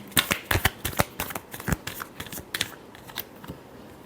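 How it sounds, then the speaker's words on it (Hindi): A deck of tarot cards is shuffled up close in a series of crisp, irregular riffling snaps and flutters, loud at first and softening over a few seconds, with no talk. "Last shuffle."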